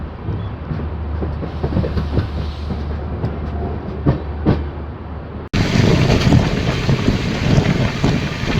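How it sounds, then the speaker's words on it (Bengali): Heard from inside a general coach, the Gour Express runs fast past Titagarh station with a continuous rushing roar and rattling rail noise. Heavy wind buffeting swells abruptly louder partway through, and there is no talk. "ট্রেন এটা টিটাগড় স্টেশন স্কিপ করছে বেশ ভালো স্পিডেই চলছে"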